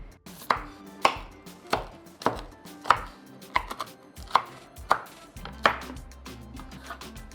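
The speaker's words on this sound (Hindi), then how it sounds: "I'm just going to use a knife and chop it into random shapes." A knife chops a slab of chocolate seed bark into random pieces, about ten sharp, evenly spaced cuts against a board, close and clear with no talking.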